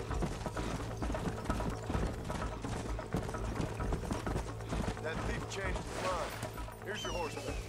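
Horse hooves clip-clop in Red Dead Redemption within a dense game soundscape of steady mechanical ticking and background music, someone speaking over it throughout.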